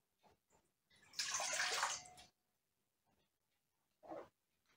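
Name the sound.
warm water poured into a glass for pie dough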